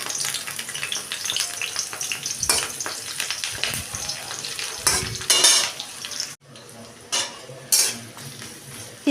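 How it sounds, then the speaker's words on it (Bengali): Onions and green chillies frying in hot mustard oil in a kadai, a close sizzle mixed with clattering spatula strokes against the metal, dropping briefly before the stirring resumes. "পেঁয়াজটা এখানে আমি ভেজে নিলাম"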